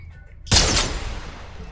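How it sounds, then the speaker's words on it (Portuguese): A single powerful rifle shot in the VR shooter game Larcenauts, one sharp loud blast followed by a decaying rumbling tail. "Ela só dá um tiro, mas é um tiro bem potente"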